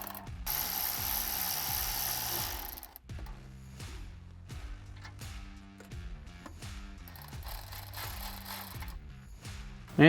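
A hand ratchet clicks repeatedly in quick bursts while loosening header bolts on a C8 Corvette Z06 during a Kooks headers install, each stroke a sharp metallic pawl rattle with short pauses between.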